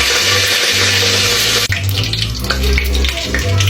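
Tap water running steadily from a kitchen faucet, a loud continuous rushing stream that shifts slightly in tone midway as the flow changes, with no voices over it.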